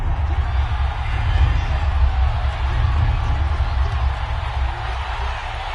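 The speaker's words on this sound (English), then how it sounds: "the crowd getting into it as we come up on a big third down" Stadium crowd cheering in a PS4 American football game, a dense steady roar of many voices building ahead of a big third down, under continuous commentary.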